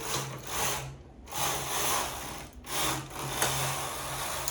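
A knitting machine carriage runs across the needle bed while knitting a sweater, making a steady mechanical whirring rumble in three sweeping passes separated by short pauses. It sounds close and clear, with no talking.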